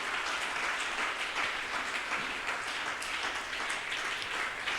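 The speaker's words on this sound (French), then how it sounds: "On acclame le Seigneur Jésus." A church congregation applauds together, sustained dense clapping at a fairly even level, filling the hall with little cheering standing out.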